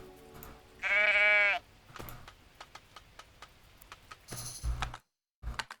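A single sheep in the farming game Lords and Villeins gives one clear, drawn-out bleat, followed by soft scattered taps and clicks and a short pause.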